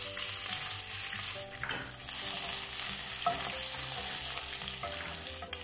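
Curry leaves sizzling in hot oil along with green chilli and ginger for a masala dosa potato filling, a steady loud crackle with scattered pops and occasional spoon scrapes, no talking.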